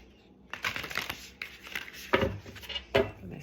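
A tarot deck is shuffled by hand in several quick riffling bursts. Soft flicks and taps sound close and fairly quiet, with no talking.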